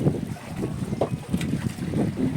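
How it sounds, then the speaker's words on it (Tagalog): Strong wind buffets the microphone in uneven rumbling gusts out at sea on an anchored boat amid high waves, with a low boat-like drone beneath. "Naka-angkor kami dito dahil sa lakas ng alon, lakas ng hangin"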